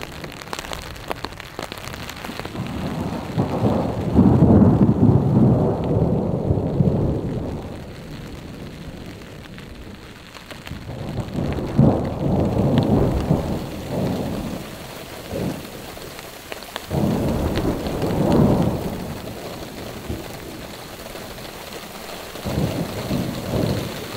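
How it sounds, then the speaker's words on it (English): A thunderstorm in the Colorado or South Dakota backcountry, with steady rain hissing on surfaces and deep rolling thunder swelling in several long, heavy waves, fairly close and loud, with no voices. "That storm over there, which seems to be getting closer to"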